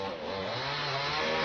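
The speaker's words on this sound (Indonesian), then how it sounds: "Petugas pun menyingkirkan rumpun dan pepohonan dengan cara manual dan gergaji mesin" A chainsaw runs hard and steady as rescue workers clear trees and bushes during a body evacuation, its dense, loud buzz holding without a break for the whole stretch.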